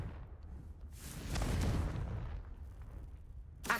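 Confringo fire spell blast in Hogwarts Legacy, a soft whoosh swelling into a muffled booming burst, followed by a quieter rumbling tail and a sharp crack at the very end.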